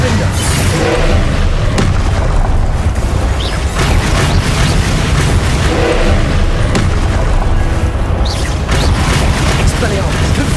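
Confringo spell explosions in the video game Hogwarts Legacy, loud booming blasts and thuds repeating through heavy, continuous combat noise, with a voice talking over the action.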